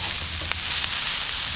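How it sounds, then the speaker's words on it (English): Fried rice sizzles on a Blackstone griddle outdoors at an RV, a loud, steady frying hiss with a couple of faint scraping stirs. "So it's actually frying."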